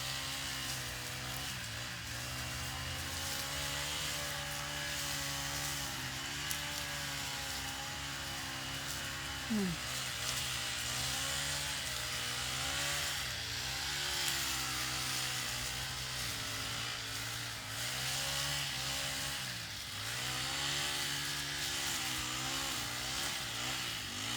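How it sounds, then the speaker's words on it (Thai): A grass cutter's engine drones continuously and revs slightly up and down as it cuts grass around a water tank, running at a distance with no talking. "คุณพ่อเขาเอาเครื่องตัดหญ้านะคะ ตัดหญ้ารอบๆแทงน้ำนะคะ"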